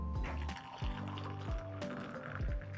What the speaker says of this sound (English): I'm going to pour in some hot water.